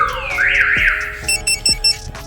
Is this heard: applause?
no